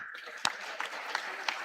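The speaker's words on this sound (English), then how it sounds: "Can we applaud our chair?" Brief burst of audience applause for the chair at a national conference of school principals, dense clapping with a few sharper claps standing out, over a voice.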